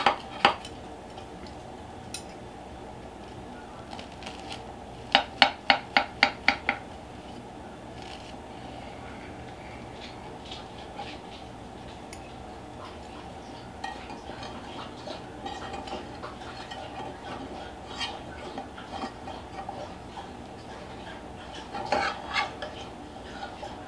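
A piece of oatmeal cake is pried out of a baking pan, giving quiet scraping and clinking of a utensil against the pan, with a brief run of sharper clicks partway through and soft handling noises elsewhere.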